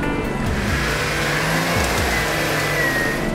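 A 4WD vehicle's engine revs hard and continuously while climbing a soft exit bank on the Stoney Creek Track, a loud, close, steady drone with the pitch rising and falling.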